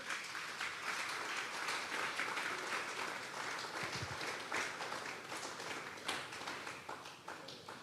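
Applause from a congregation at a church Bible study, a continuous dense patter of many hands clapping at moderate distance, steady for several seconds.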